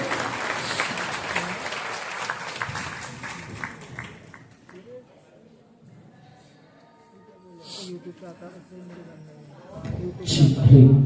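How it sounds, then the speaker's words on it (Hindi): Loud applause from a gathered audience welcoming someone speaker to the stage at a gathering, dense clapping at first that fades away, followed by quieter sounds and talk near the end. "जोरदार तालियों से इस छोटे से बच्चे का स्वागत करें"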